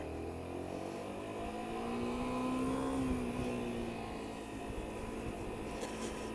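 A 2008 Honda Varadero 125 motorcycle rides along, its engine droning steadily with a gentle rise and fall in pitch under constant wind rush, close and without speech.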